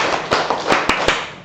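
Hand claps from a group in a rhythmic clapping exercise during a teacher workshop at a special-needs school in Jakarta, several sharp claps in a short loose sequence over a roomy background, near and fairly loud.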